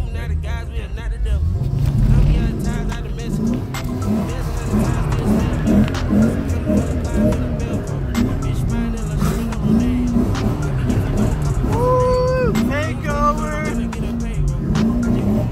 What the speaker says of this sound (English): Probably do some donuts for you guys